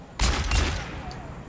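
Rapid gunfire bursts in the Overwatch PC game, a loud dense fusillade of shots that rings out for over a second, stops briefly, then starts again at the end.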